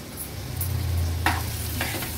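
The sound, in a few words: garlic and onion sautéing in oil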